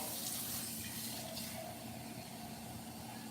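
Water runs steadily from a kitchen tap into a sink, a soft, constant hiss and splash with no talking.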